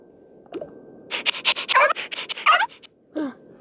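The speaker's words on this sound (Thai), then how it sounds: "เสียงหมาเห่าค่ะ" A cartoon dog in the Toca Life World game yips and barks in a quick run of sharp, bright bursts, with a whimpering note at the start and a final yelp after a brief pause.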